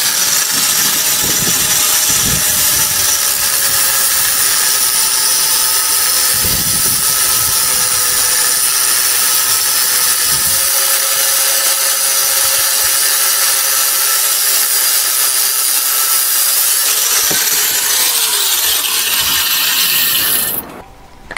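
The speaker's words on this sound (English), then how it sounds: "Okay, so cut these off." Power-tool cutting through the steel bottom of an old car strut being converted to a coilover, a loud continuous grinding-saw whine with tonal bands and rasping, running steadily for about twenty seconds before stopping abruptly near the end.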